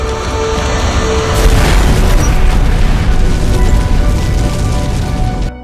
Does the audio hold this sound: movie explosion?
yes